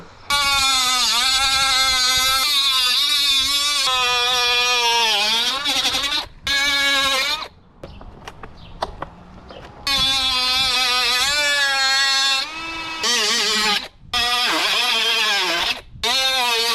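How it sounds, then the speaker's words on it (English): A power tool cuts off a part on a 72V 32AH Razor electric scooter build. It makes a loud, sustained, high-pitched whine in long bursts that rise and fall in pitch, with a quieter pause in the middle. "So we'll try to cut this off as close as we can."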